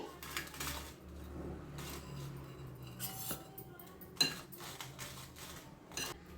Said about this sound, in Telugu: ప్యాన్ కొంచెం హీట్ అయిన తర్వాత ఎండుమిర్చి ఒకసారి లైట్గా కొంచెం వేయించుకోండి